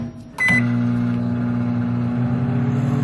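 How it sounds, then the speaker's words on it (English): A microwave oven hums steadily after a click and short beep at the start, heating a keto stuffed brownie mixture in a bowl for about a minute, with a constant low drone throughout. "I left mine in the microwave about 1 minute."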